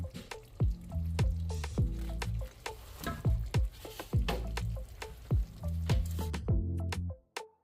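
Shrimp go back into a pan over low heat with yellow squash, giving a close sizzle broken by repeated wet squishes and soft clacks as pieces are dropped and moved. The sound cuts off sharply near the end.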